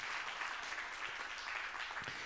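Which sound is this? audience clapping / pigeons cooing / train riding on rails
audience clapping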